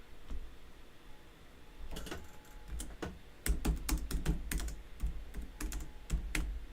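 Someone types on a computer keyboard in bursts of quick, close clicks with brief pauses, during a Gran Turismo 7 live stream, with no talking.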